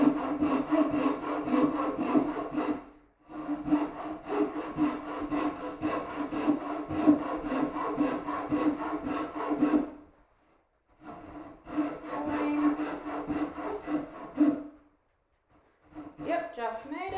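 A hand saw cuts through wood during carving, with long runs of rhythmic rasping back-and-forth strokes broken by brief pauses.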